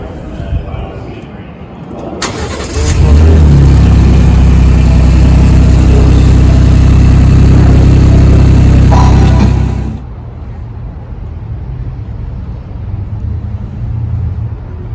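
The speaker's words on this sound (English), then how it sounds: "This is how we start the vehicle." A car set up for flat towing behind a motorhome with a Demco Stay-in-Play Duo braking system cranks, fires and settles into a loud, steady idle before shutting off, with people talking nearby.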